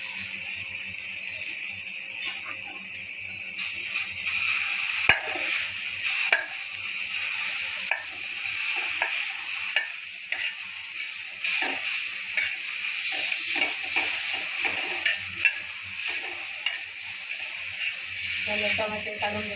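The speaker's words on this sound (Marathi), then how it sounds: "टोमॅटो तव्यावर टाकून टोमॅटोची साल काढून घ्यायची।" Tomatoes roasting on a hot tava griddle pan for a spicy black masala dish, giving a steady close sizzle and hiss with occasional stirring scrapes throughout, no speech over it.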